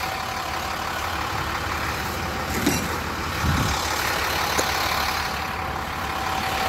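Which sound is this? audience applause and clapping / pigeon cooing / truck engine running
truck engine running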